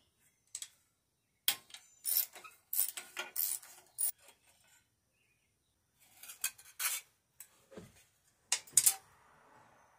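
A ratchet wrench works a 1/2 inch bolt on the heat shield of a Case Ingersoll 446 tractor, making quick bursts of close metallic clicking separated by silent pauses.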